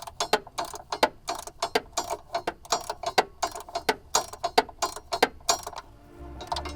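A hand ratchet clicks rapidly in quick repeated bursts, close and crisp, while bolts are tightened to secure a sway bar outdoors in a field.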